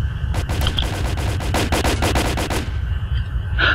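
Rapid rifle fire in S.T.A.L.K.E.R. Call of Pripyat, a loud close burst of about a dozen evenly spaced shots over two and a half seconds, then a short lull before a brief metallic clack.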